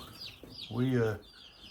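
Chicks in a coop give a single short, fairly loud cluck-like call standing out over faint background chirping, with no talking.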